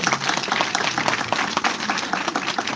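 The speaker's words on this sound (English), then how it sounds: "Can we hear a louder clap?" An event audience claps in a moderate, steady round of applause, individual claps audible within the crowd, fairly even in loudness over a short stretch.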